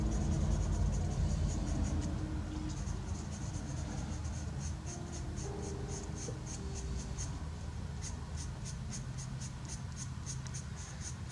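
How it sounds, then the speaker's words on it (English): Blunt pencil shading across paper in broad strokes, a continuous soft scratchy rasp that holds steady and close throughout, with faint background rumble underneath. "Blunt pencils, when they start getting blunter, use them to do shade in bigger areas."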